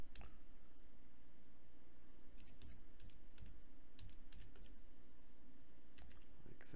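Typing an address on a computer keyboard, heard as light, scattered key clicks over a constant low hum and soft background noise, close but faint.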